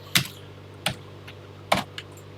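Sparse, uneven keystrokes on a computer keyboard during a retro programming session: four or five crisp, close clicks with pauses between.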